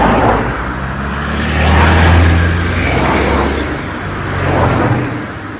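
Cars accelerate and pass in quick succession, engines swelling and fading in several overlapping waves as vehicles speed away, fairly close and with no voices.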